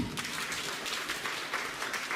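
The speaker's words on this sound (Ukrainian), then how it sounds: "Оплески" An audience in a Rusyn studio show applauds with faint, steady clapping that carries on evenly from start to finish.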